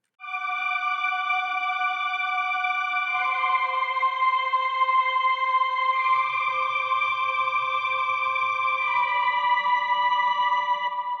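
Played recording of a choir singing a high-pitched chorus part, sustained bright vocal chords layered in harmony, shifting notes every few seconds, heard alone at moderate level with a wide, effect-laden sheen.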